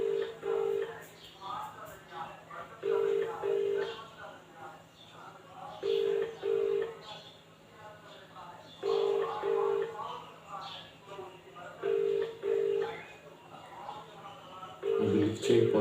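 Telephone keypad dialing tones repeating in short paired bursts over a steady line hum during a prank call, with people talking between the tones.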